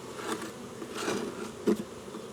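A honeybee swarm buzzes inside a hive box, and bees hum up close in soft bursts that rise and fall, with one louder pass near the end and no voices.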